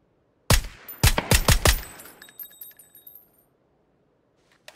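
A quick string of about six suppressed VSS rifle shots in PUBG, sharp and close, followed by faint metallic clinks as the echo dies into quiet.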